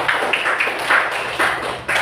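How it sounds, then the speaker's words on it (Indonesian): Applause from a class for presentation group 5, a continuous patter of many hands clapping at moderate loudness for about two seconds. "Silakan beri tepuk tangan dulu untuk kelompok"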